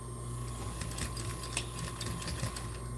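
A sewing machine stitches down a pocket along an outside seam, a fast, steady mechanical whirr with rapid ticking needle strokes, close and continuous with no talk.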